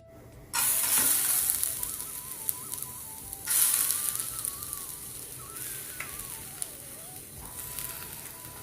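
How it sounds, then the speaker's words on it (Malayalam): Soaked, drained broken wheat is tipped into a hot frying pan and heats, a loud sizzling hiss that bursts in, fades, then flares again with a second addition, continuing as a softer crackle. "ഒരു ഫ്രൈ പാനിലേക്ക് നമുക്ക് ഈ ബ്രോക്കൺ വീറ്റ് ഇട്ടൊന്ന് ചൂടാക്കി എടുക്കണം"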